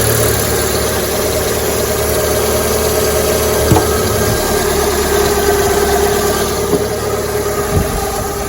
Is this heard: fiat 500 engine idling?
yes